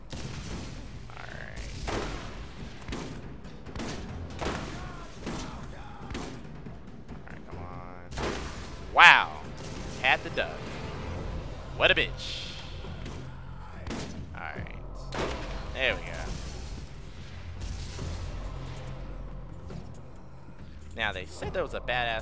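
Sniper rifle gunfire in the video game Borderlands, a series of sharp scattered shots with loud impacts, heard under steady talking throughout.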